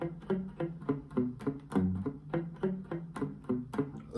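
A song's bass line played on an electric guitar as a steady, repeating run of plucked single notes in an even groove, heard clearly and alone.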